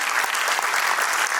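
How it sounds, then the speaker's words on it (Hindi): Loud, dense applause from a crowd in a pandal at a community gathering, many hands clapping together in a steady, close roar throughout, with no voices over it. "एक बार जोरदार तालियां पंडाल में बजनी चाहिए"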